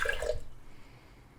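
Filtered drinking water poured into a measuring cup in a home kitchen while preparing vegan taco toppings: a short, close splashing pour lasting under half a second, then fading to quiet room tone.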